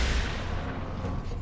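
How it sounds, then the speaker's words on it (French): Laser cannon fire in Warhammer 40,000: Space Marine, a dense, continuous booming roar with heavy low-end rumble sustained at steady loudness throughout, like artillery-style blasts blending together. "Ah bah au canon laser ça marche bien."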